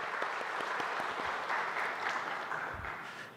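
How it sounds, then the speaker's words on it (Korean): A church congregation claps during a Sunday worship service after the choir's hymn, a sustained burst of applause filling the room that gradually tapers off toward the end. "다시 한번 하나님께 영광으로 박수하겠습니다"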